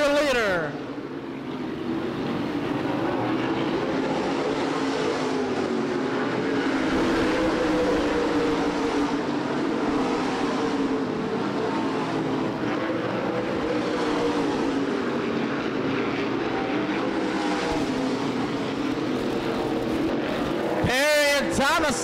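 A pack of USA Modified stock cars races at Winchester Speedway in 2010, a continuous loud roar of engines thick with lapped traffic, under constant excited race commentary.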